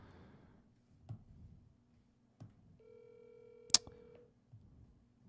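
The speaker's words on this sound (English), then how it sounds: "It's ringing." An outgoing call's ringback tone, heard from the caller's end while phoning a small five-unit commercial building: one faint steady ring burst of about a second and a half, with a sharp click and soft background rustle around it.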